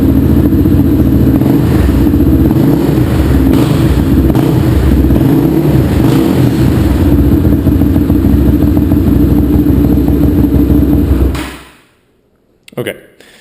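A 2007 Suzuki LT-R450 ATV engine with stock exhaust and an exhaust leak runs loud and close with a rough, rumbling drone, throttle rising and falling in uneven revs before cutting off abruptly.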